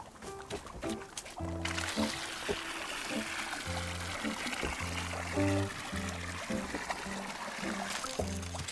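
Water pours in the video game Wanderstop, a steady, close trickle running most of the clip under a bed of plucked, tonal game music.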